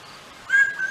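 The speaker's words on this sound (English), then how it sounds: "I like the whistling, all the different calls they make." A bird gives a short, clear whistling call, rising slightly, against a quiet background.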